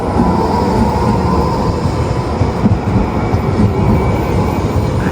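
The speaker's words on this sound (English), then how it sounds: "Oh, and there goes a tram." A tram rumbles past close by, a loud, continuous rolling roar that holds steady throughout.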